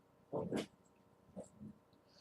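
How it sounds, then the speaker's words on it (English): A dog indoors gives two short close snorting whimpers, then a few fainter huffs and a soft yip, quiet and brief against a still room. "Oh, you hear my dog."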